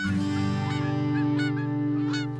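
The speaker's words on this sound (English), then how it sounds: "all of us are familiar with the sound of geese as they follow their instincts to take them south for winter" Geese in flight honk repeatedly, a series of loud nasal calls overlapping one another over a couple of seconds.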